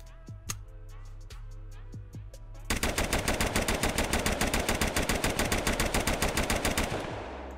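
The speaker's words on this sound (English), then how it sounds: "Here's the CZ Bren 2." A CZ Bren 2 rifle in Unturned fires a few spaced single shots, then breaks into a loud, rapid automatic burst of evenly spaced cracks that stops abruptly near the end.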